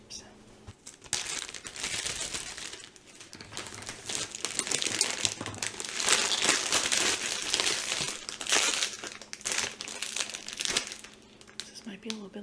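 Crinkly plastic bag of black bean and chickpea chips rustles and crackles loudly and close up for most of the stretch, in waves of crumpling with short pauses.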